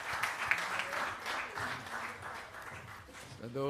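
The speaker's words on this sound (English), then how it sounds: "Can we have a resounding round of applause for our legacy partners, please?" Audience applause for a conference's legacy partners, a dense round of many hands clapping at moderate distance with voices and cheers mixed underneath throughout.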